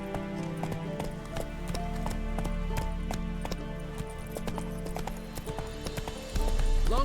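Horse hooves galloping in The Witcher 3, a steady, close, loud clip-clop rhythm over a sustained musical drone, with the pace continuing unbroken to the end.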